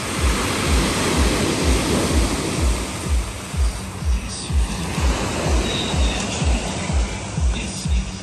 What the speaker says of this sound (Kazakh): Мынау қара теңіз ағайындар, қара теңіз.